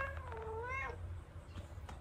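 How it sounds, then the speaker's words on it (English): A cat meows in a drawn-out, rising then falling call while being petted in the FNAF Into The Pit video game, over a low steady game hum, followed by a faint short sound. "Okay, I can pet the cat."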